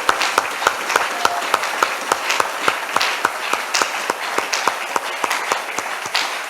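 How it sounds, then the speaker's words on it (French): A church congregation at a Sunday revival service claps together in a steady, rhythmic beat, sharp regular claps repeating about three per second over a dense wash of scattered applause, sustained throughout with no talking. "Acclamons la parole de Dieu."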